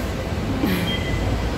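LRT light rail train at Doroteo Jose station in Manila, a steady rumbling rail roar with a brief high screech of wheels or brakes midway, continuous and fairly loud with no talking.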